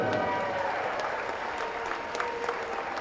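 A crowd applauds and cheers for cheerleaders on cheer night at a boys' high school basketball game between Westwood and Vandegrift, a steady, dense wash of clapping filling the gym for the whole span.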